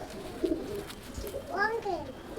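An open-tailed domestic pigeon gives a brief low coo and a rising, warbling call close by, while a voice is briefly heard in the background.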